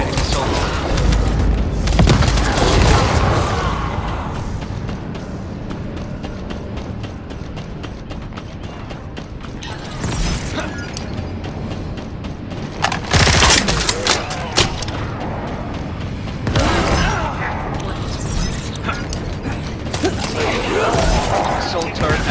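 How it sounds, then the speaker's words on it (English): An assault turret firing in The First Descendant during a colossus fight, with sustained loud gunfire, heavy booms and mechanical clanks layered into a dense, continuous game soundtrack. "Operating assault turret."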